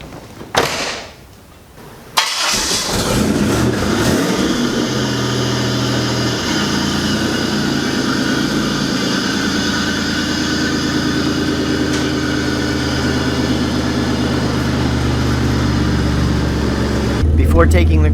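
A Pontiac Fiero engine idles steadily and loudly while warming up, a continuous low rumble with a brief thump and a door-like clunk early on, and the radiator fan's whir swells in near the end.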